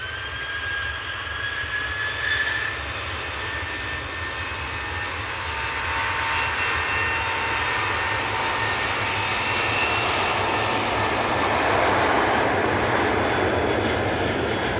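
Ryanair jet airliner taking off from Manchester Airport, a broad sustained engine roar building steadily in loudness and holding strong, heard alone without talk.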